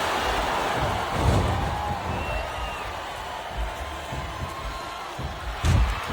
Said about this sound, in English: This competitive crowd is making their opinions known tonight.